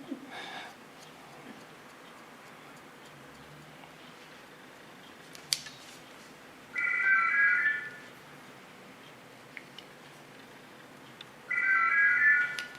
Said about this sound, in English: Enjoy this noise because from next week you never hear a telephone anymore.